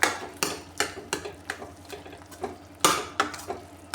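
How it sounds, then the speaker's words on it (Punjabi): A spoon stirs fresh cream into carrot gajrela in a pan, making steady rhythmic scraping and clinking strokes, close and fairly loud, with no talking. "ਇੱਕ ਚਮਚ ਪਾ ਦਾਂਗੇ ਤਾਜ਼ੀ ਮਲਾਈ ਇਹਨੂੰ ਵੀ ਚੰਗੀ ਤਰ੍ਹਾਂ ਮਿਕਸ ਕਰ ਲਾਂਗੇ"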